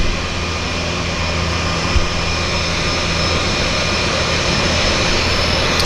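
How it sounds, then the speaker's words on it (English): Aircraft turning over the East Harbour at Vancouver Harbour Airport, heard as a steady, broad engine drone that holds even and moderately loud throughout, with no talk. "Got another aircraft making the turn in the East Harbor"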